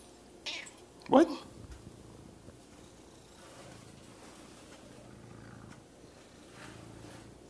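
A house cat playing in a bag lets out a brief meow and an abrupt burst early on, then a faint steady purr-like hum continues under quiet room noise.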